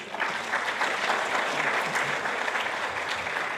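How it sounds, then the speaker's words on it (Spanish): Steady applause from a church seminar crowd, a dense clatter of many hands clapping that stays even throughout. "Recibámosle con fuertes aplausos."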